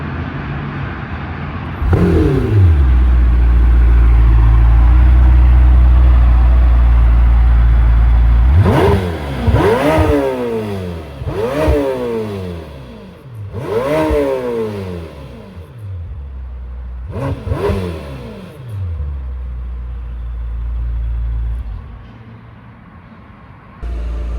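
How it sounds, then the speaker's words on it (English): A 2026 Lamborghini Temerario exhaust, first a loud deep idle drone, then a series of sharp revs. Each one climbs quickly and falls back, with crackles between them, close and alone. "I'm also going to put an exhaust clip so you guys can hear it."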